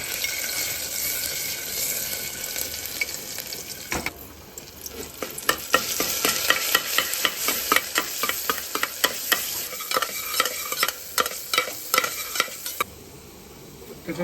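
Ginger and garlic frying in oil for a beetroot biryani, a steady close sizzle with rapid repeated scraping strokes of a spoon against the pan through the middle, no voices.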